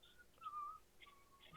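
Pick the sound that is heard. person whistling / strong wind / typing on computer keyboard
person whistling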